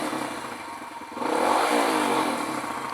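Kawasaki KLX170 dirt bike, a rebuilt big-bore KLX140 top end, revs up from a steady idle into a louder, fuller rise around the middle before holding at a raised pitch, close and alone without talk.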